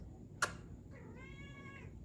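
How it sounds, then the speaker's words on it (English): A kitten meows indoors, one short high cry followed by a longer, clear, moderately close meow with a falling pitch, in otherwise quiet surroundings. "That's my kitten, y'all. She want to say hi"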